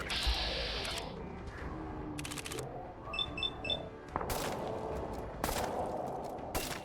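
Video game cannons fire warning shots in a short string of sharp booming blasts, interspersed with mechanical clanks and beeps from the game.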